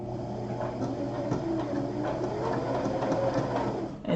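A sewing machine stitches a rope bowl with a steady, close mechanical whirr and rapid needle clatter running continuously, ending with a brief thump.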